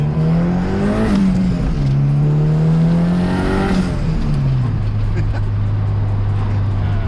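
Honda Integra DC2 with a turbocharged B18C engine revving at half throttle, loud close engine note rising and falling twice before settling into a steady lower drone.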